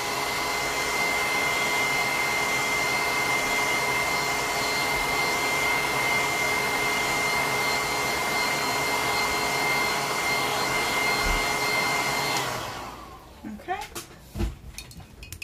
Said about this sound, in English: I'm just gonna hit my surfboard with the blow dryer because it's too wet to paint anything on it.